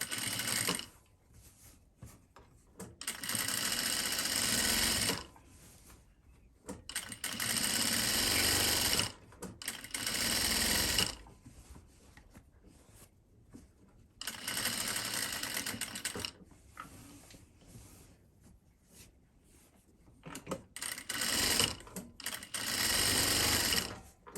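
A sewing machine runs in bursts of steady rapid stitching, several short runs separated by pauses, close and fairly loud, with no speech, during a home tailoring lesson.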